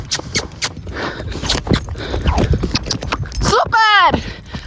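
Horse hooves clip-clop in quick, uneven thuds near a stable, mixed with scraping and jangling, and a voice speaks over them. A horse's high whinny cuts in near the end.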